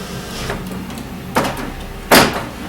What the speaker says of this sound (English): Door locked, door unlocked